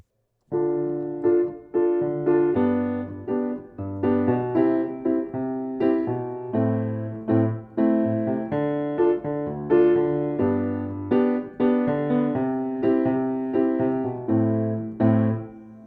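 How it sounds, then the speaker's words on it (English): A slow sequence of sustained piano chords moving through a repeating two-five-one-six progression, each chord struck clearly and allowed to ring. "So if you take a chord progression like 2 to 5 to 1 to 6"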